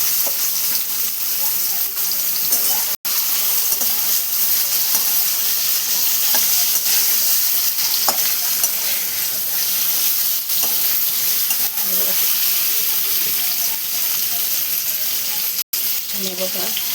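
Stuffed bitter gourd in tomato masala, sizzling and bubbling steadily in a pan as it is stirred, a continuous close hiss with occasional soft scrapes.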